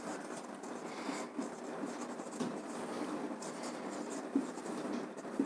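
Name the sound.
writing the balance equation by hand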